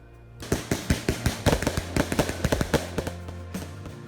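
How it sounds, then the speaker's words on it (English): A fireworks display at dusk on a summer vacation, heard as a rapid series of sharp cracks and bangs, some clustered together, loud and fairly close over a low rumbling background. "the trip wouldn't be complete without a great fireworks display at dusk"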